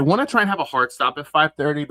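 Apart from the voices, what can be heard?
No distinct noise like a dog, phone or traffic.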